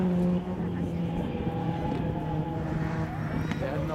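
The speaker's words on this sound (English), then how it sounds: "Now we've got Piemont out in the lead in the BMW" Rallycross race cars, including a BMW and an MR2, running at Lydden Hill; a fairly quiet, continuous engine drone from the pack at a distance, heard under a commentator's voice.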